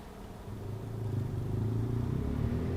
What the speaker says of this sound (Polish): Stoimy przy drodze i po prostu auta jeżdżą mi cały czas